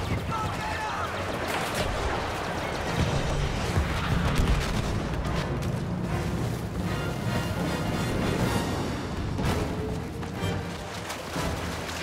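Star Wars Battlefront battle on Endor during a walker assault: continuous blaster and artillery fire with rumbling booms and dense crackling shots, loud and close throughout.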